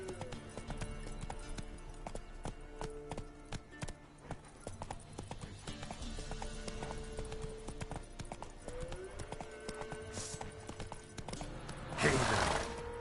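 Roach, a horse in the video game The Witcher 3, gallops with steady, rapid clip-clop hoofbeats throughout, close and moderately loud, with a brief louder whoosh near the end.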